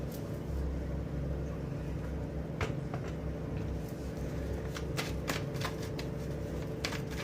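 Tarot cards are shuffled by hand, with a soft riffling and sharp flicking snaps repeated over a steady low background hum, close by and with no talk.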